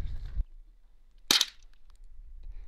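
A single sharp, close gunshot is fired at a wooden target, a loud crack with a brief ringing tail, preceded by a short rumble and followed by quiet.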